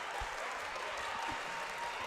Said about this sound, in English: Those claps you may be able to hear in the background coming from the Chief faithful